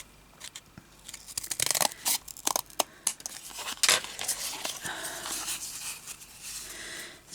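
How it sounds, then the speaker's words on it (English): Scissors cut paper for a junk journal: a string of crisp, close snips and crunches, dense at first and then more scattered, with some rustling of paper between cuts. "Keep picking up the wrong pair of scissors."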